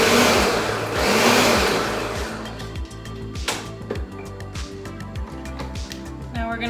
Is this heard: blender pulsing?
yes